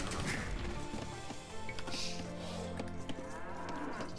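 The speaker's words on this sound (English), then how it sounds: "I need a little pile of cows here." Cattle in Age of Empires 2: Definitive Edition moo repeatedly amid game ambience. Several overlapping lowing calls come with faint chopping and thwacking sounds in the background.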